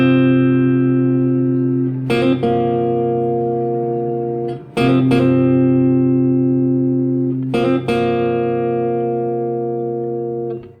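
Clean electric guitar plays the intro of a song as sustained, ringing chords, restruck three times at regular intervals with a few quick plucked accents at each new attack, played alone and up close.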